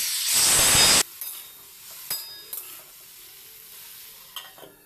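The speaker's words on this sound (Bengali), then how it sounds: "তারপরে এর মধ্যে নুন আর হলুদ দিয়ে ভালো করে ভেজে নেব" Vegetables hit hot oil with salt and turmeric in a loud burst of sizzling, then quieter intermittent stirring scrapes and clinks of a spoon against the pan.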